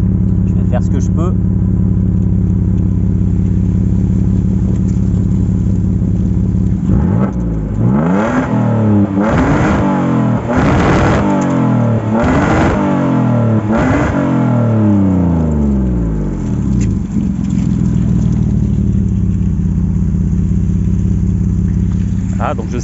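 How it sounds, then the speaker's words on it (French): A Citroën C5 V6 engine with an open exhaust idles loudly, then revs in a series of about five sharp, rising blips before settling back to a steady idle, close up with no voices. "le bruit est vraiment sympa avec l'échappement ouvert"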